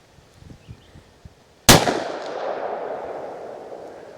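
.327 Magnum loaded with Federal Premium test ammunition fires a single sharp, loud shot at close range, its report decaying over a couple of seconds after a few faint clicks.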